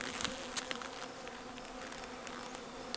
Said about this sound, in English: And there are some worker bees in here.